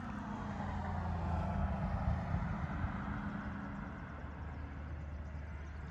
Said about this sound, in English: Here comes a motorhome.